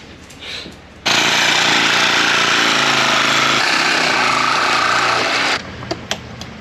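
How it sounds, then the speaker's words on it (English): A power drill driving large, strong screws through a door framework during post-hurricane repairs, a loud continuous whir running steadily for about four and a half seconds, with quieter handling noises before and after. "my dad needs to drill right now."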